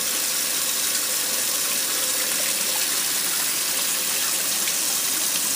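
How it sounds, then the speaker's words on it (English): Water gushes steadily into a stand mixer bowl to rinse raw goat milk butter, a loud, continuous close-up rush with no pauses or speech. "you can actually put it back into the mixer and let it rinse that way if you like"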